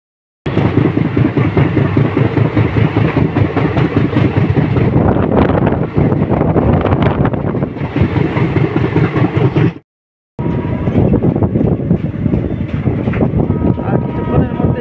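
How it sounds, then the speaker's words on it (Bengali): The Netaji Express passenger train runs on rails with a loud, continuous rumble and wind buffeting close to the microphone, broken by a brief cut near the end. "আর কিছুক্ষণের মধ্যে আমাদের ট্রেন ঢুকতে চলেছে কানপুর স্টেশনে।"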